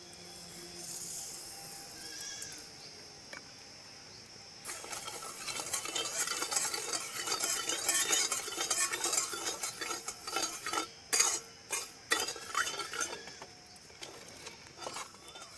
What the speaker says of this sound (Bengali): আগে থেকেই কড়াতে জল দিয়ে রেখেছি, এবার চিনি দিয়ে মিশিয়ে নেব।